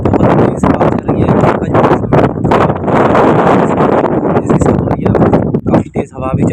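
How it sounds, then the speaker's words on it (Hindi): Strong wind gusting outside a student hostel in Türkiye after the 2023 earthquake, a loud continuous roar with buffeting against the microphone, while people talk throughout. "तो गाइस बाहर बहुत तेज हवा चल रही है।"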